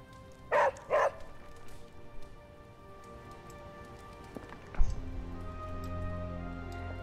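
A dog in the video game Midnight Suns gives two sharp, close barks in quick succession. After the barks comes a soft, rain-like ambience and then one dull thump.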